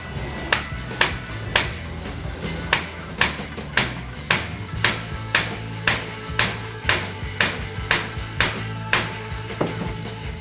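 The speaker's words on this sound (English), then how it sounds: "To be able to hit the bearing evenly, we decided to put it in a vise." Steady metallic hammer blows strike a steering bearing clamped in a vise during service of a Honda TransALP 650 motorcycle, about twenty sharp, evenly spaced hits, close and loud, ringing briefly over a low background hum.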